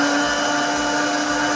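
A loud, steady motor whine at full power, continuous and close: a Britânia BLQ1280P 1150-watt kitchen blender switched straight on at full speed.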